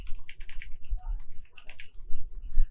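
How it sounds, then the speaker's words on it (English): Keys tapped on a computer keyboard while entering a password into a password manager, a quick, irregular burst of close, crisp clicks. "So let's just type our master password right here."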